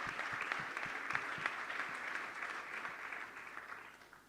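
A packed auditorium audience claps steadily at a political talk, the applause dense and sustained before slowly thinning toward the end.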